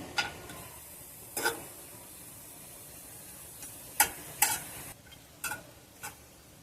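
A whole dried red chili and a piece of cinnamon go into hot oil for tempering, giving a few sharp, separate crackles and pops over a faint, steady low sizzle. No one speaks.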